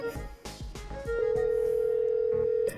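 An outgoing telephone call rings without being answered: a few soft knocks, then a steady, unbroken tone holds for over a second at moderate level, with no voices.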